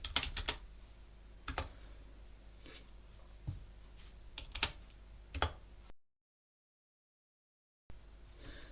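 Keys clatter on a computer keyboard as Linux terminal commands are typed, including an apt install, in quick irregular bursts of clicks with brief pauses, close and moderately loud, then a short stretch of silence before a few more keystrokes.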